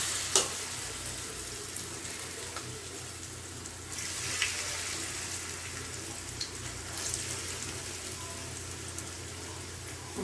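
Korean vegetable pancake batter hits about a teaspoon of hot oil in a pan and gives off a loud, continuous sizzle that swells as more batter goes in, with faint scrapes as it is spread.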